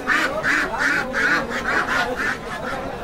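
Domestic ducks quack repeatedly at a busy poultry market in Baneshwar, Rajshahi, a close, steady run of loud nasal calls with faint crowd chatter behind.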